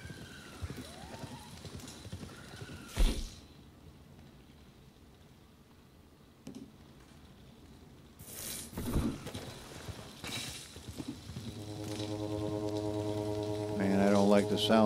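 Horses approach in a wooded backcountry setting, hooves clip-clopping intermittently at a distance and growing louder, with a whinny and other outdoor noises mixed in.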